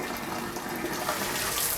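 Water runs steadily from a household tap after its aerator mesh has been cleaned, a close, continuous rushing splash with no pauses.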